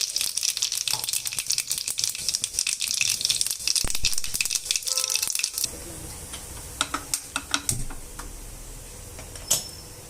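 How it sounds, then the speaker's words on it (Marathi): Mustard seeds and cumin crackling and popping in hot oil for a Marathi tempering, a dense busy sizzle that thins out into scattered sharp pops. "ही फोडणी बनवून घेऊ। मोहरी,"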